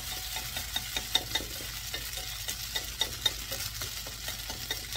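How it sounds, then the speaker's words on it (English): Chicken and vegetable noodles fry in a pan with a steady quiet sizzle, while a utensil stirs and scrapes in quick repeated strokes, some sharper clicks standing out, close and without talk. "Give them a quick stir. And then we're just going to let them cook, crispy up, and brown the noodle at the bottom"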